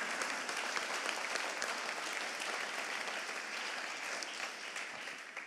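Steady audience applause at an awards ceremony, dense continuous clapping from a large crowd without pause, heard alone at a moderate distance.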